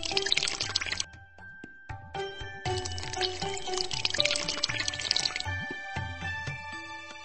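A cartoonish magic water shower effect from a Shimmer and Shine genie dress-up video game: bright dripping and pouring splashes with twinkly chime tones, gurgling in bursts with short pauses, close and clean.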